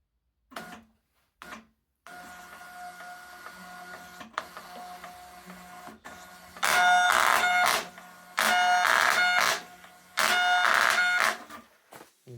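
Zebra ZT411 label printer with its printhead pressure set too high, running in three loud, harsh, buzzing bursts of about a second each, preceded by quieter clicks, motor whirs and a low hum, close and without talk.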